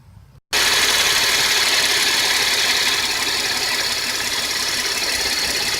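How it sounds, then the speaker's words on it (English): Car engine cranking and catching after a purge valve replacement, a brief quiet start then a sudden jump into steady, loud close-up idling with a slight knocking vibration. "Now I want to start the engine and make sure there's no suction coming from this."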